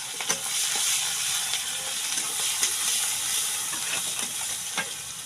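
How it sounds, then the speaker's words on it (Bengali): Whole spices tempering in hot oil in a pan for home cooking, a steady close sizzle broken by scattered crackles and stirring clicks throughout, with no talking. "তেল গরম হয়ে গেছে, এখন আমি ফোড়নে এগুলো দিয়ে দিব।"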